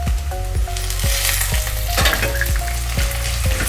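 Chopped onions and tomatoes frying in a pan, a loud continuous sizzle broken by regular spoon scrapes and clinks against the pan about every half second.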